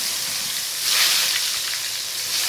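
Boiled potato and papaya chunks frying in oil with mutton, giving a continuous close hissing sizzle that swells briefly and then settles, with no voices.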